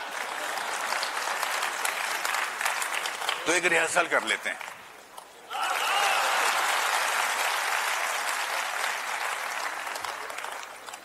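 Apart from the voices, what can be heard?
audience applause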